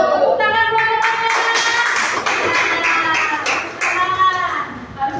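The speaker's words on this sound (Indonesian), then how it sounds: "Tepuk tangan buat teman-teman" Schoolchildren in a classroom clap for their classmates, a busy patter of small hands close by with tapping thumps, while a voice talks over it.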